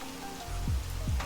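Steady rain in the video game Minecraft patters softly on a surface, a gentle continuous hiss with a couple of low thumps.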